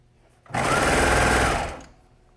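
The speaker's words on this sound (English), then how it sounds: "All right, let's sew this bottom on" A sewing machine stitches the bottom band onto a jersey in one steady, loud burst of about a second and a half. It starts abruptly and runs at a fast, even whir before winding down, with no talking.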